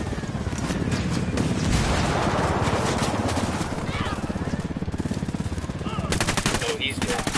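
Rapid gunfire from the video game Ghost Recon, a dense string of loud reports running almost continuously under urgent speech and game noise, with other voices calling out across the battle.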